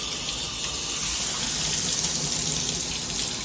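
Water from a regular shower head sprays in a steady, even rush close by, a continuous broadband hiss with no voices over it.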